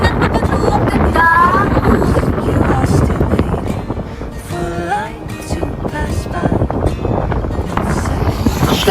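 Strong wind buffets the microphone outdoors during a slow drive through scenic countryside, a loud steady roar with gusty swells throughout, while people talk over it.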